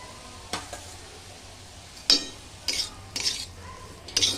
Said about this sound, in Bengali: ভালো করে নাড়বো এইভাবে নেড়ে শাকটাকে বেশ গামাখা গামাখা করে